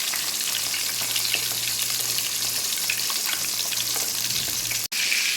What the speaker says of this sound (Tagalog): So, pinirito muna natin yung isda